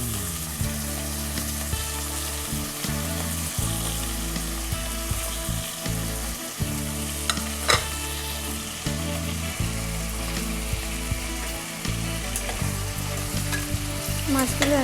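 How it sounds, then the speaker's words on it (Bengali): Pieces of hilsa fish cook in poppy seed paste frying in oil, a loud continuous sizzle with frequent stirring scrapes and clinks close by. "হালকা একটু ভাজা ভাজা হলে মাছগুলোকে এমনিতে দিয়ে দেবো।"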